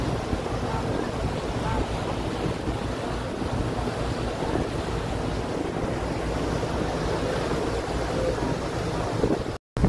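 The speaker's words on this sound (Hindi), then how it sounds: "इस पानी का क्या लहर मार रहा है" Water waves surging at a scenic spot near Guwahati, Assam at sunset, a steady loud wash of surf mixed with heavy wind buffeting the microphone, continuous throughout.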